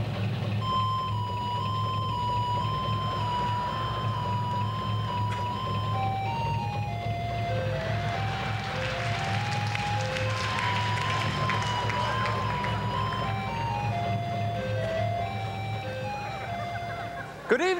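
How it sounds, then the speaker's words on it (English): A melody played in truck reversing-beeper tones as a comedy sketch gag of Beethoven backing up his truck, performed live in Montreal; steady electronic tones over an engine-like hum and audience murmur. "Radio Free Vestibule is proud to present Beethoven backing up his truck."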